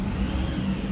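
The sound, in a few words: bus engine revving at bus depot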